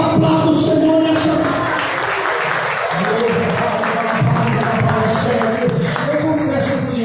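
Church congregation clapping during a Sunday service, sustained loud applause from many hands lasting several seconds, with voices and some tonal sound mixed underneath.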